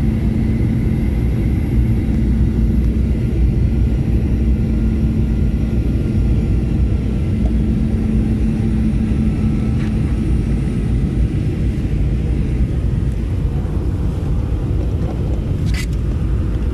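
An airplane landing at Jakarta is heard from inside the cabin as a steady, loud low rumble and engine drone that holds throughout, with a faint thump near the end.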